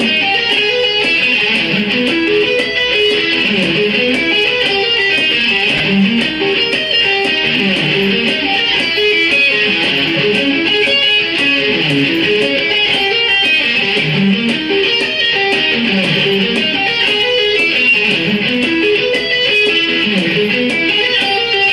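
Guitar arpeggios ring out slowly in time, rolling through chords in a repeating up-and-down pattern, loud and continuous with no talking.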